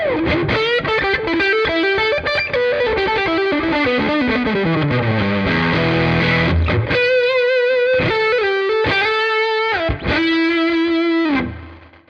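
Electric guitar on the neck pickup through a Tonex pedal dialed to a signature tone, playing loud, continuous effected chords and ringing melodic lines with a chorus-like shimmer, then fading out at the end.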